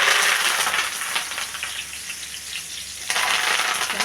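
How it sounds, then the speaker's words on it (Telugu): Curry leaves fry in hot oil with a dense, steady crackling sizzle that flares louder near the end, close and continuous with no one talking. "కరివేపాకు కూడా వేపించుకుందామండి ఆ నూనెలోనే"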